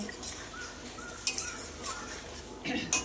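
A pot and metal utensils clink and scrape as cooked vegetables come off the stove, faint scattered clatters over a low kitchen background.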